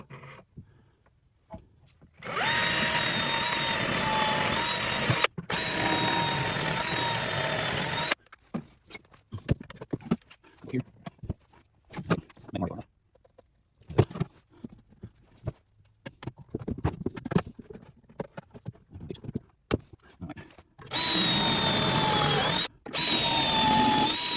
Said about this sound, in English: Now we're all set to drill our holes.